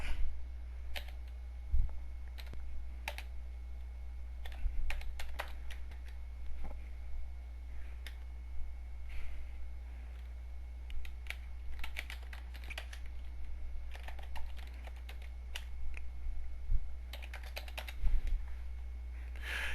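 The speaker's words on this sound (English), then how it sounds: "To log into the package, you will need your client ID, your username, and your password." Typing on a computer keyboard to log in to an online tax filing site, irregular bursts of light key clicks over a low steady hum, close and fairly quiet with short pauses.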